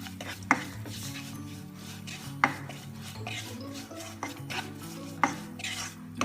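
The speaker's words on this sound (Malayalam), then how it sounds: "ഈ മസാലപ്പൊടികൾ ഈ ഉള്ളിയോടൊപ്പം എണ്ണയിലൊന്ന് നന്നായി മൂപ്പിച്ചെടുക്കാം." Spice powders and onion stirred in hot oil for a Kerala-style beef brain kuruma, heard as a soft fry under repeated spoon scrapes and clinks against the pan, several distinct knocks spaced across the stretch, with no talk.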